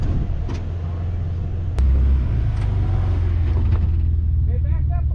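A Toyota RAV4 stuck in sand, its engine droning loud and steady before the revs jump and hold higher, with wind buffeting the microphone and a voice speaking briefly near the end.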